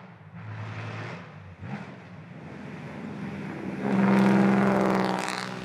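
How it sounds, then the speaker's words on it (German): Classic BMW 328 coupé rebuild rolling out of a workshop hall: a modest engine note idles and shifts, then swells louder and richer as the car pulls away nearby. "rollt das neue 328 Cam Coupé aus der Halle und macht seine ersten Gehversuche"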